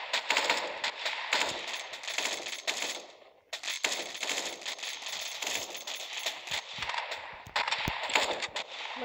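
Gunfire rattles in the online shooter Special Force Group 4, dense bursts of automatic fire and metallic clatter filling nearly the whole stretch with a short pause midway.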